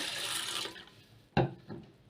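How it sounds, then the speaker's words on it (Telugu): Water splashes steadily into a bowl of sago pearls, then stops, followed by a sharp knock and a short clatter nearby. "ఈ సగ్గుబియ్యాన్ని ఒక బౌల్లో వేసుకుని వాటర్ వేసేసుకుని"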